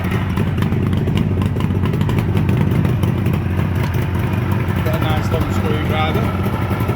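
A Suzuki GT750 motorcycle engine idles steadily throughout while its carburetors are balanced, a close, constant low drone with light mechanical clatter, and someone talks over it.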